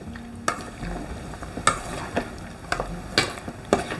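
Chilli powder is stirred into a frying pan, making a low sizzle under a series of sharp spoon scrapes and clinks that land at uneven intervals, close by and fairly loud, with no talking.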